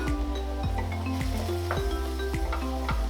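Seasoned ground meat for pastitsio cooks down in a pan with a constant close sizzle and frying hiss, while a low repeating hum rises and falls steadily underneath, and faint clinks come through now and then.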